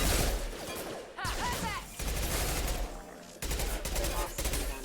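A heavy weapon in Mass Effect 2 fires in dense, rapid bursts with thick, punchy recoil, loud and close amid battle clatter, with brief speech mixed in.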